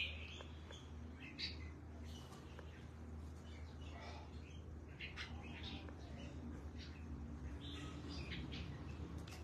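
Pet birds in molt chirp and tweet in short scattered calls over a steady low hum, fairly faint and with no talk.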